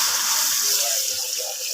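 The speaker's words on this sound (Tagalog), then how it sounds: "Then, lagyan natin ng water." Water pouring into a cooking pot for tanigue fish soup, a loud steady gushing stream running without a break, close by.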